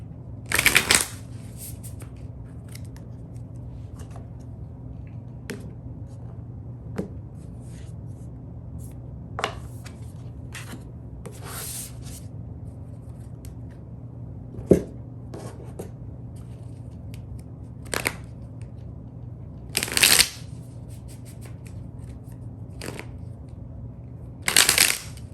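Several brief bursts of cards being shuffled, crisp riffling clusters spaced irregularly over a low steady hum, fairly close.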